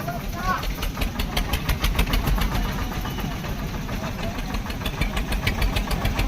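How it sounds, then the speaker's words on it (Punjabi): A Raja tractor engine idles at close range with a steady knocking chug, while someone talks over it. "ਇਹ ਵੀ ਰਾਜਾ ਟਰੈਕਟਰ ਹੈ ਜੀ"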